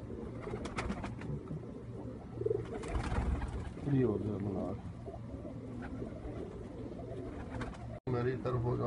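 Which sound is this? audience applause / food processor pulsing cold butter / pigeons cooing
pigeons cooing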